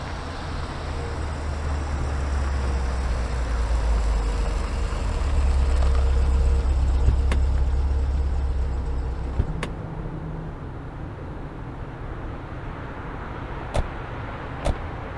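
Car driving through traffic near Bagru, a steady low engine rumble and road noise inside the cabin that swells and then eases, with a few sharp clicks toward the end.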